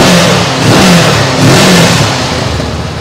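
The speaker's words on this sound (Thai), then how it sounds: "โอ้ดูเครื่องนิ่มมาก" A low-mileage 2022 Honda motorcycle with around 11,000 km on it revs loudly and close by, its engine swelling and easing twice in a smooth, even roar with no talk over it.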